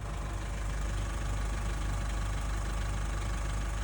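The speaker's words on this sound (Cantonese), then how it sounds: "聲音平穩啊，靚機頭就係唔一樣" The engine of a used 2020 JAC truck runs steadily at idle, a smooth continuous low rumble with even vibration, close and unchanging throughout.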